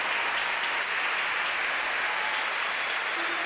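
Prolonged applause from a tennis crowd at a Sharapova–Clijsters match, an even, continuous roar of clapping across the whole stretch, moderately loud with no voices on top.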